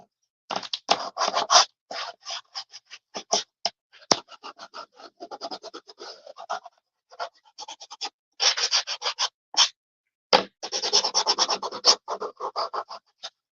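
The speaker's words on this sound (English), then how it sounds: "I love these little gator sanders. I'm using 120 grit sandpaper." Small gator sander fitted with 120-grit sandpaper working around the edges of a wooden door hanger, giving close, rasping scratchy strokes in irregular bursts with short pauses between passes.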